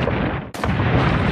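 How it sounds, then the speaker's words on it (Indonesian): A gas station explosion erupts in a film scene: a dense, loud roar of broadband noise fills the whole stretch, cut by a sharp drop and then a renewed blast that rumbles on. "SPBU tersebut meledak, membuat Andrew pingsan"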